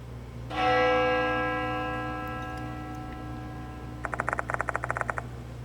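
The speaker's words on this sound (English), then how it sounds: "The sound of a bell echoes in my ears." A single bell strikes once in Spirit Hunter: Death Mark II and rings out in a long, slowly fading tone, followed by a quick run of light ticking clicks.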